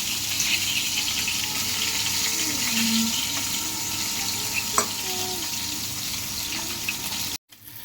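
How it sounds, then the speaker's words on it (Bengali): Koi fish fries crisp in hot oil, a steady close sizzle that holds evenly loud, with a couple of brief clinks and a short pause near the end. "কড়া করেই ভাজাটা দিব বেশি করে লাল করে"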